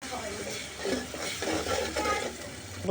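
Paste of garlic, salt and spices being stirred in a pan, a steady low scraping and light sizzle running continuously, close and moderately loud, with a short louder clatter at the very end.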